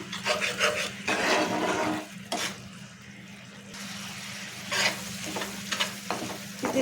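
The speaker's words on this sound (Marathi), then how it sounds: "आता पुन्हा आपल्याला ते मिक्स करून घ्यायचं" Milk gets stirred into thickened jaggery syrup for pumpkin barfi in a pan, giving repeated close scraping and stirring strokes in uneven bursts over a soft, continuous sizzle.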